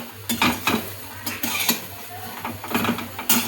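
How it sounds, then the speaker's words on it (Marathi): Green chickpeas roast in a pan, a soft sizzle under repeated scraping and clinking of a metal spatula stirring them in quick bursts. "मस्त असे आपले हरभरे भाजतायत."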